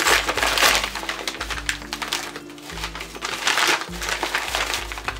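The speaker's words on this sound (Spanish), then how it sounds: "Así que vamos con el unboxing." Packaging on a book parcel is torn open and handled, giving close, continuous crinkling and crackling rustles over a low tonal background.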